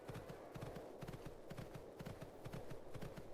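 Hoofbeats of a horse running in the Horse Isle 3 video game, a steady repeating clip-clop rhythm over a continuous soft background, with no talk.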